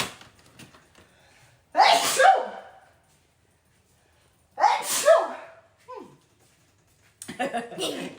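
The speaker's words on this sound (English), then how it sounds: "I'm about to sneeze." Three sharp sneezes spaced several seconds apart, loud and close, with faint rustling between them.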